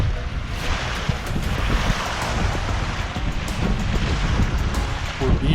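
Wind rushes across the microphone and waves wash steadily against the hull of a sailboat beam reaching on an east wind, a continuous loud roar with no pauses.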